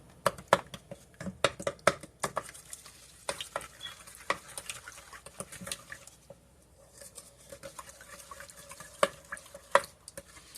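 Bread dough ingredients with salt being stirred in a bowl, giving soft irregular clicks, taps and scraping patters close by at a quiet level.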